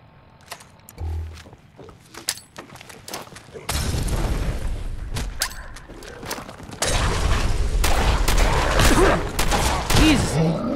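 Shotgun fire in the video game Fallout 4, several loud close blasts amid roaring creatures and heavy game noise that swells into a dense, chaotic din toward the end.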